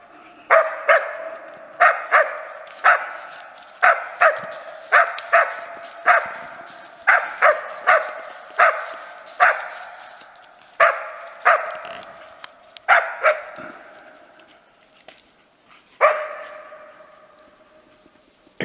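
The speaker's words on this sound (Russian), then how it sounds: "Она красивая, как лает." A Laika hunting dog barks close by in a string of about twenty sharp, evenly spaced barks, loud and clear, with brief pauses between bursts and a final bark after a short gap.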